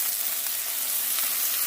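Garlic sizzling as it is stirred into a hot frying pan, a bright steady crackle and hiss of oil that stays even and fairly close throughout, with no talking.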